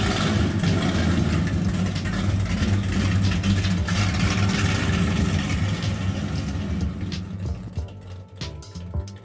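Steady, deep rumble of a restored Chevelle SS muscle car with a 502 big-block V8, idling close by and loud, running evenly throughout with a slight easing toward the end.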